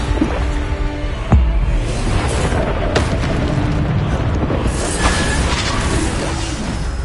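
Booming spell blasts from the Bombarda curse in Hogwarts Legacy, with a sharp impact near 1.4 s over a dense, continuous rumble of combat effects, plus further crackling hits around 3 and 5 seconds.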